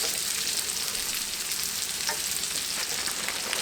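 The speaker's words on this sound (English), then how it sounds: "I'm going to add my rice in and let it start heating too" Cold leftover rice, cooked with butter, onion and garlic powder, reheats in a skillet alongside sausage and vegetables, giving a steady loud sizzle and crackle with faint stirring scrapes throughout.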